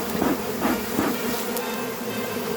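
Bees hum in a thick, continuous drone with a few louder buzzing swells as individual insects pass close.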